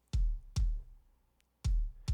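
Three deep, punchy triggered kick drum hits on their own, each with a sharp click on top and a booming low tail, irregularly spaced.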